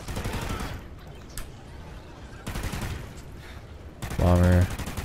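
Bursts of Remington gunfire in the video game Call of Duty Ghosts come in short rapid volleys, with one loud burst near the end, mixed with game sounds and a voice talking.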